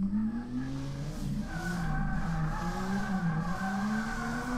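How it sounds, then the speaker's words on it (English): Car drifting in the video game DRIFT21 with a V6 engine swapped in, a steady high-revving engine drone that climbs and wavers in pitch with tire noise underneath, loud and continuous throughout. "Oh yeah, now we drifting."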